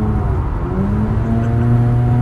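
A Mazda RX-8's rotary engine drones steadily from inside the cabin at the Nürburgring, its tone rising gradually as the car pushes into oversteer on a corner exit, loud and alone.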